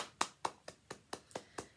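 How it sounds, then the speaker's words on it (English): A handful of people applauding students, eight sharp evenly spaced claps in quick succession, thin and moderately close with no crowd swell behind them. "Let's give them a round of applause."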